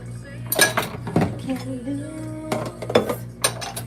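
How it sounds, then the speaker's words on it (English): Dishes being washed by hand, with pots, pans and cutlery clinking and clattering in irregular bursts, close and fairly loud amid running-water and kitchen noise. "I'll be washing up our dishes"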